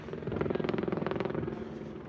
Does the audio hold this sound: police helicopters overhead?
yes